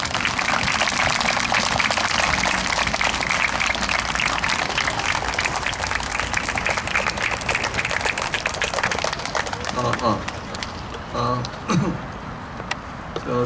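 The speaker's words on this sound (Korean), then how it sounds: "큰 박수로 맞이해 주시기 바랍니다." Audience applause welcoming guests at the opening ceremony of a youth club football tournament, a loud continuous patter of clapping lasting about ten seconds before thinning to scattered claps.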